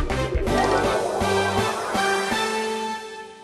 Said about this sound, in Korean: 그게 바로 이런 엄청난 소리를 내는 드론이었습니다